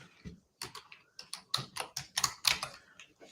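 Irregular bursts of keystrokes on a computer keyboard, a few scattered taps followed by a quicker run of clicks, close and fairly quiet with no talking.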